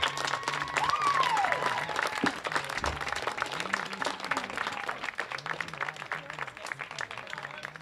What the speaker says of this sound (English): there's the round of applause that they deserve.